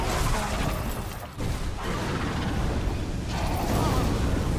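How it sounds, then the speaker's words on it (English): Two bosses in Dark Souls breathe fire, giving a dense, continuous roaring wash of flame and rumble that fills the whole stretch with only a brief dip partway through. "Oh, they both breathe fire!"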